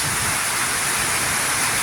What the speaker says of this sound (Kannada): ಭಾರಿ ದೊಡ್ಡ ಗುಡುಗು ಸಿಡಿಲು ಮಳೆ ಪ್ರಾರಂಭ ಆಗಿದೆ